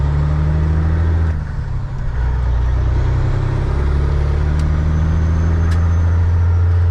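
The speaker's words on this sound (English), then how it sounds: "I got a truck turning left into here right now" Heavy engine drone from an owner-operator's truck cab, a steady low rumble that dips briefly as another truck turns left across the road nearby, the idle swelling back and holding, with a couple of faint high clicks near the end.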